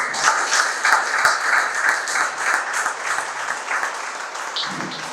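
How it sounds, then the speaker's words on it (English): An audience at a history talk breaks into steady, dense applause, many hands clapping continuously for several seconds with no speech over it. "So give them a round of applause."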